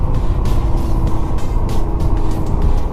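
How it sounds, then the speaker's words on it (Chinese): A QJMotor Race 250 single-cylinder motorcycle engine runs off the throttle in fifth gear, a loud steady low throb with rhythmic pulses of wind rush over it and no talking. "听发动机运行的声音"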